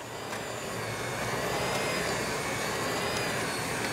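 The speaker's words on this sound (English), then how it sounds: "You don't need to burn out your extremely high-powered motor." The motor of an expensive high-powered stand mixer runs on its high setting, a loud, steady whirring drone that holds unbroken from start to finish with no talk.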